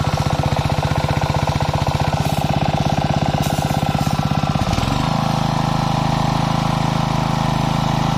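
A used Japanese high-pressure three-piston sprayer pump runs steadily on its engine, a loud, even mechanical chug that shifts pitch and settles into a lower drone partway through.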